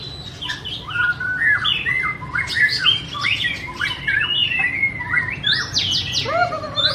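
A white-rumped shama sings a fast, varied string of whistles, trills and squawks, loud and close, over a steady low background hum.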